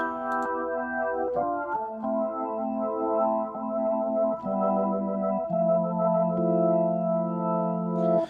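Sustained Hammond B-3X organ app chords on iPad with a shimmering chorus effect, smooth and steady, changing chords a few times, soft and alone.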